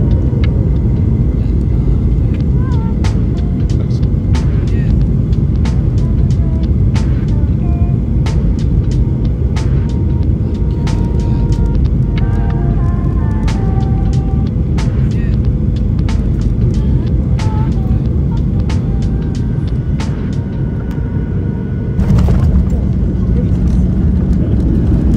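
Garuda Indonesia Boeing 737 cabin on final approach: a loud, steady low roar of engines and airflow throughout, with scattered clicks and faint cabin sounds.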